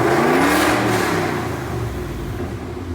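A Whipple-supercharged 2018 Mustang GT revs hard with a loud close rising engine roar and supercharger whine, then settles back toward a lower steady note, with no voices over it.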